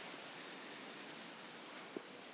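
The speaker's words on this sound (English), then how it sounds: "And there's a cat." A cat purrs softly and steadily up close in a quiet setting, a low continuous rumble with faint rustling and no talking.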